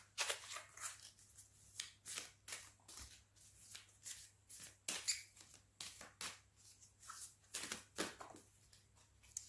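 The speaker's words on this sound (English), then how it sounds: "So I'll just pull one of these cards" A deck of oracle cards is shuffled by hand in repeated soft riffling bursts, with cards slipping and being pulled from the deck, close and fairly quiet.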